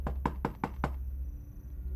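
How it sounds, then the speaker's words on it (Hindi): Five quick, soft knocks on a room door, evenly spaced in a short burst, then quiet room tone. "धीरे से नॉक किया।"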